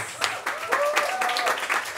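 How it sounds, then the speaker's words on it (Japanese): Brief burst of congregation applause for Yumi-sensei at a church festival gathering, many hands clapping briskly at once while a voice speaks over the top. "ゆみ先生に大きな拍手をお願いします。"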